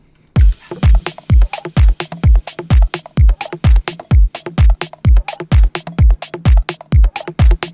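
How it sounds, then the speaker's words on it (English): A punchy four-on-the-floor house drum loop with booming kicks and crisp percussion hits repeating steadily at a dance tempo, loud and close. "The drums with all the elements sound like this."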